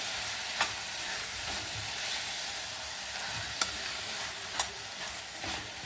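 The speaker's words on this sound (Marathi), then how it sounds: "हे व्यवस्थित परतून घ्यायचं आहे" Spinach and gram flour bhaji sautéing in a pan, a steady soft sizzle with a few brief utensil taps, close and continuous without talk.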